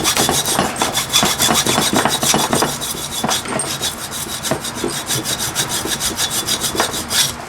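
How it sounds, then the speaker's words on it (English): A hacksaw cuts through the plastic casing of an AC adapter in fast, rhythmic back-and-forth strokes, loud and close, with a steady rasping pulse and no talking. "And then hacksaw through one half of it."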